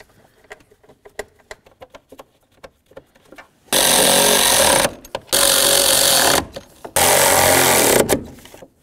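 Hood latch mounting bolts on a 1994-2004 Chevy S-10 pickup driven tight with a power tool: soft tinny clicks first, then three loud, rattling, buzzing bursts, each lasting a second or two, close by.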